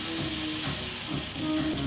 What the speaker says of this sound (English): A nice sizzle.